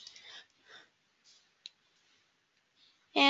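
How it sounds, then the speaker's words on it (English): A single sharp computer mouse click on a search button, close and brief, in an otherwise quiet room with soft breathing noises before and after. "I click on Search."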